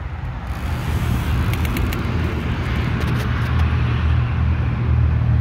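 A dirt bike engine idling steadily just after start-up with a freshly fitted Electron Billitron 38 carburetor, a continuous loud low rumble close by, no talking.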